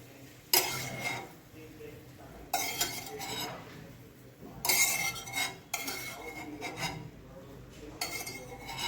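Fried peanuts are scooped from a pan with a metal spoon onto a sieve holding poha, giving several bursts of clinking and scraping between quieter pauses, close and moderately soft.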